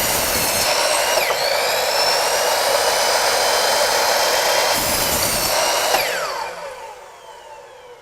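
A miter saw cuts wood spacers in a loud, steady whine lasting about six seconds, with a brief dip partway through, then spins down and fades as the blade slows.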